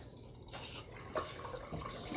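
Running tap water gushes while a razor tip is rinsed beneath it during a shave, a steady close splashing with a few brief louder spatters as the blade enters the stream.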